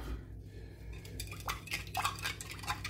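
A spoon stirs sugar into warm milk for sweet bread dough, giving soft, irregular clinks and scrapes against the bowl, quiet and close, with no talk.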